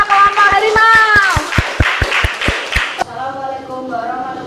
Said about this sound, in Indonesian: Beri tepuk tangan untuk kelompok harimau.